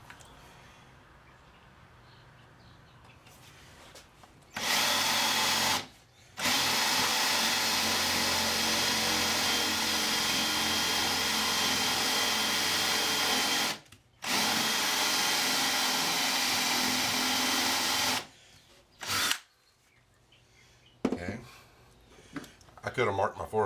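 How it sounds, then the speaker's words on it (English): A power drill with a 3/4 inch Forstner bit whines loudly in long bursts while boring holes for magnets, stopping briefly between runs, then a few shorter spurts near the end; close and steady. "got my 3/4 inch Forstner bit, and I will be drilling some holes for the magnets"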